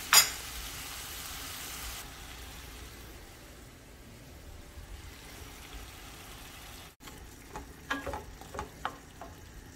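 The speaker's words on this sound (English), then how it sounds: "So let it simmer for a few minutes." Red curry tuna simmering in a pan over about medium heat, a soft steady sizzle and bubbling that runs quietly for most of the stretch, with a few faint clinks and taps near the end.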